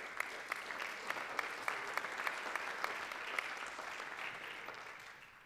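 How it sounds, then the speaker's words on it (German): Audience applause at a German stage show, a brisk, even round of clapping with distinct hand claps standing out, heard at moderate distance and tapering off near the end. "Einen großartigen Applaus."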